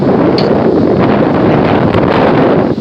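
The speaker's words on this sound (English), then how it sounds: "windy out there." Loud wind buffets the microphone at night near a cemetery, a continuous rough roar with gusts rising and falling throughout.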